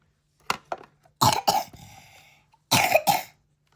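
Several sharp coughs in short bursts: two quick ones, a heavier pair, then another strong pair, close by with brief quiet gaps between.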